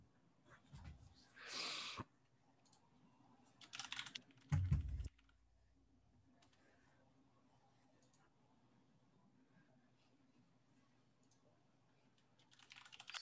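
Keys clatter on a computer keyboard in short bursts, a few loud clusters of typing separated by quiet stretches, with low room murmur and faint background sound.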